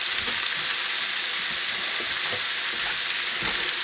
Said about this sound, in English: And now in with our ground beef.